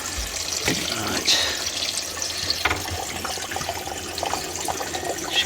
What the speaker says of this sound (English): Shower's working.